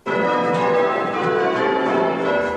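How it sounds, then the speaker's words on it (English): Church bells at St Peter's Church in Market Bosworth rung as a peal by bell ringers, a dense continuous wash of overlapping loud metallic tones ringing steadily throughout. "bell ringers at St Peter's Church are practising a 3-hour peal to mark King Richard's journey through the market town"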